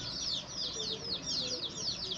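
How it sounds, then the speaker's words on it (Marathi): Free-roaming domestic chickens and a large two-year-old rooster at a home in Ratnagiri give repeated bursts of clucking, faint and fairly close, with a murmur of background sound. "ही सर्व आमचीच घरातली कोंबडी आहेत, मोठी मोठी."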